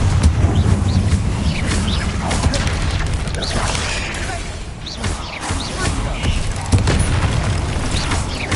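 Repeated fire-spell blasts from Confringo casting in Hogwarts Legacy, dense booming crashes layered over constant game ambience and effects, loud and close throughout.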